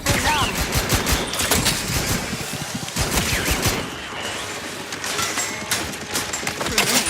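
Rapid bursts of turret gunfire in the video game The Outer Worlds 2, loud and continuous over a busy game soundscape, with a voice talking intermittently underneath.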